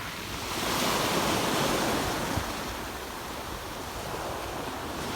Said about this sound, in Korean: 파도 파도 소리 붙었어요. 네, 파도 정말 좋습니다.